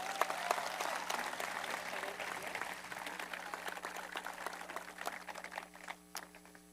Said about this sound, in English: Could I have one more round of applause for the team constituents?